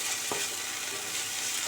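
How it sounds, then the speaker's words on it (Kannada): Onions with ginger garlic paste frying in a pan, a steady soft sizzle with a brief stirring scrape near the start, alone with no voices. "ಚೆನ್ನಾಗೆಲ್ಲ ಫ್ರೈ ಆಗೋಣ"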